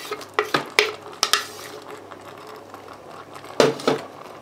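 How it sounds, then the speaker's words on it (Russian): Finely chopped tomatoes are spooned over vegetables and bell pepper in a multicooker for chakhokhbili, giving a few close, wet clacks and plops of a spoon against the pot amid quiet kitchen background. "Заливаем это все томатами, которые мы их мелко прошинковали."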